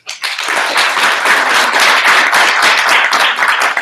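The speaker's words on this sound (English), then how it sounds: "Give a big round of applause." Loud, sustained applause from a symposium audience, dense clapping filling the whole stretch with no voices on top.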